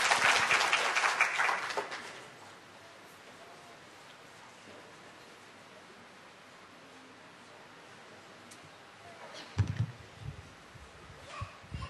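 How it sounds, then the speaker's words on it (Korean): Applause at a church camp forum, a burst of clapping in a hall for about two seconds that quickly fades into quiet room noise, followed by faint shuffling and a few thumps. "예, 박수 부탁드립니다."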